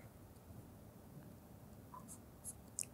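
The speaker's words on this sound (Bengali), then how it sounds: "এখানে শুধু সূত্রটা লিখব।" Pen or chalk writing out a physics formula, a soft continuous scratching against a steady background hiss, with a couple of faint taps near the end.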